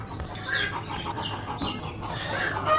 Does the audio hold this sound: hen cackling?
yes